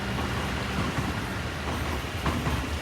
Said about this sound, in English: Here comes the last train of the night.